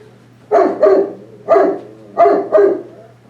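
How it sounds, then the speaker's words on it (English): Dogs bark indoors in five loud, close barks, two quick pairs and a single between them, each standing clearly above a low steady hum. "I'm going to let those dogs out so they won't interrupt us"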